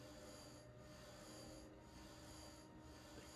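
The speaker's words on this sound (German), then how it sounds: "ist das wirklich eine Säge?" A saw rasps through material in the video game We Were Here Forever, a faint, steady back-and-forth scraping with three brief dips between strokes.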